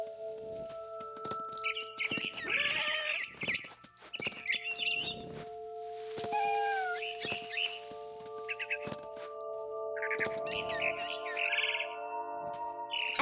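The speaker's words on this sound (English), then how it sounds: "Then I heard chirping outside my window. It was a barn swallow going back to her nest." Bright, high chirps of a barn swallow in the video game What Remains of Edith Finch come in short bursts over a steady synthetic hum and tones, a few clicks and dings mixed in, with no talking.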